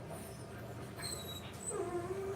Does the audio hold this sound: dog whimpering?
yes